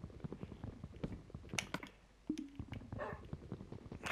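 A dog from the game Minecraft gives brief whimpering yips and barks amid clicking and tapping game sounds.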